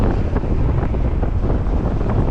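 Loud, blustery wind buffets the microphone over a steady low rumble of a moving motorbike near Dal Lake, Srinagar, Kashmir, continuous with no talking.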